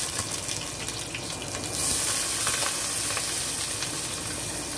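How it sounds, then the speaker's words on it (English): Onions and green onions go into a hot pan with salt fish, and a loud frying hiss starts suddenly partway through, then holds steady and close. "So I'm gonna add in the onions and green onions right now."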